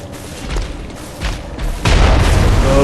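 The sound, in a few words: enemy cannon blast in Bloodborne video game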